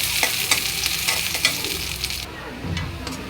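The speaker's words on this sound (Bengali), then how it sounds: "দিয়ে দিলাম পেঁয়াজ, যেহেতু কাঁচামরিচ দিয়া পেঁয়াজ দিয়ে ব্লেন্ডার করা আছে" Chopped onions sizzle and crackle in hot oil in a pan, with steady frying hiss and repeated scraping strokes of a spatula stirring them, close and continuous.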